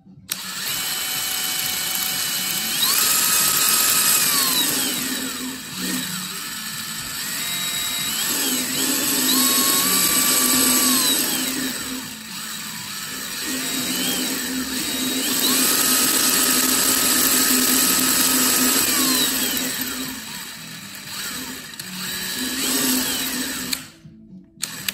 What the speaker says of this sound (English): I have this little cable that hooked up to the motor and I'm gonna use a drill to run it.